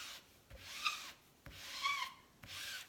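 Squeegee dragged across a stencil on a T-shirt, spreading chalk paste in three separate rasping strokes with quiet pauses between them, close and faint.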